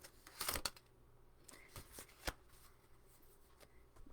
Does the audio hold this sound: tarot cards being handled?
yes